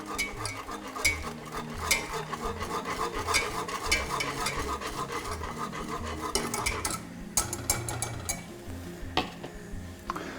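Milk being stirred into a custard mixture in a bowl for malva pudding custard, with a steady scraping, clinking stir of a utensil against the bowl running throughout, busy and close.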